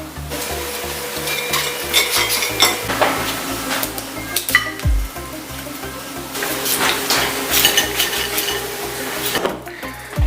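Quinoa salad with avocado and lime being tossed and mixed in a skillet, a steady run of spoon scrapes and soft clinks against the pan over a low musical backing.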